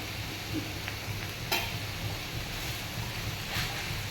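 Ghee stirred into ghonto in a home kitchen pan gives a steady low sizzle and frying hiss, with occasional scraping stir strokes and a brief clatter near the middle.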